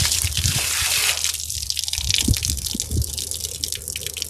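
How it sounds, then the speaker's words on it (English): Ice-cold water gushes and splashes onto a hot engine muffler on a homemade hydroseeder, a steady rushing pour that breaks into sputtering drips and splashes. "that's to get the ice cold water right on the muffler and crack everything"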